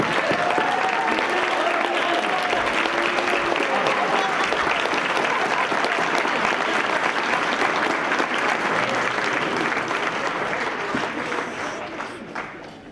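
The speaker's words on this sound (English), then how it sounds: "feel the applause that represents our appreciation of your timeless work in the classroom" A large festival audience gives faculty members sustained, dense applause that holds steady and loud for many seconds, with faint voices inside the crowd, then tapers off near the end.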